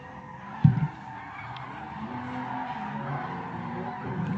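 Drift cars skid through a transition during a Street Class qualifying run at a drifting competition in Emmett, Idaho, with a sharp burst of tire noise followed by a sustained engine and skid roar at a distance.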